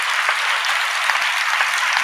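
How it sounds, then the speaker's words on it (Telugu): A congregation at a sermon claps together in steady, dense applause. It sounds close and even throughout, with no voices over it. "చప్పట్లు"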